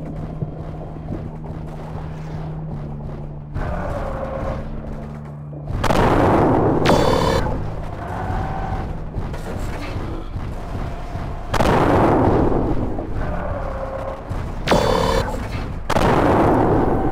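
Heavy explosions boom in repeated bursts as base buildings are blown apart in the MechWarrior IV Mercenaries mech combat game, loud broadband blasts over a low engine drone with brief pauses between them.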